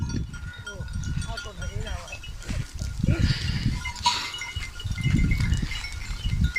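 A herd of goats and sheep bleats intermittently at a shepherd's grazing ground, with cowbell-like clinks and someone talking over the animals throughout.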